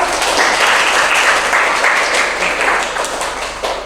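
Classroom audience applauds a group presentation with sustained, dense clapping that holds steady for several seconds and tapers slightly toward the end, with no voices over it.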